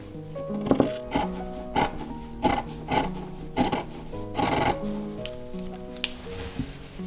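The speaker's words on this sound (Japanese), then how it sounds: "線から1センチほど大きく布を2枚重ねたまま切っていきます。" Scissors cut through two stacked layers of fabric for a homemade cloth mask, making a series of crisp rhythmic snips about every half second, close and distinct over quiet room tone.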